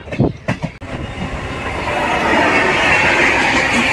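A MEMU Express train on the Bitragunta to Chennai Central line rumbles steadily, with a few sharp clanks at the start giving way to a loud, continuous roar of wheels on track that builds and holds.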